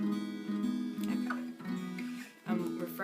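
Guitar strumming the chords of a song, a few sustained strums with gentle changes between them, fairly quiet and close, with no voices.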